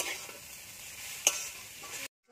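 Radish greens frying in a little oil, a steady close sizzle with a sharp utensil scrape near the middle, then cutting off abruptly to silence.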